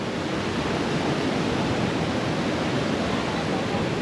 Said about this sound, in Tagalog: Yan, yung falls.